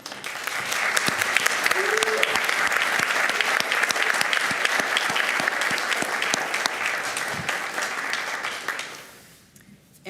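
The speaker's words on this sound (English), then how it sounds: "let's give her a huge applause" Sustained applause from a board meeting audience for an honoree, dense and steady clapping filling the room for about nine seconds before fading quickly, with faint voices mixed underneath.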